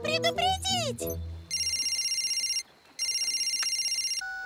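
A cartoon telephone rings in two long electronic trilling bursts with a short gap, following a brief burst of high animated voices or music at the start.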